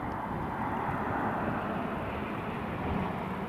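A British Airways airliner arriving from Heathrow at Newcastle International Airport gives a steady, broad jet roar at moderate distance, continuous and even across the few seconds with no voices.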